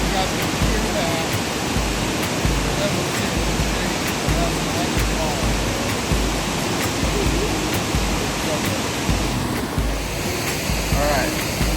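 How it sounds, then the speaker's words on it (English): A waterfall on Michigan's Keweenaw Peninsula, reached by a hike, pours with a steady, close, full-bodied rush of falling water that stays constant throughout. "We found a waterfall."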